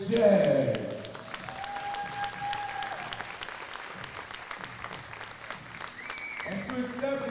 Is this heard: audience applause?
yes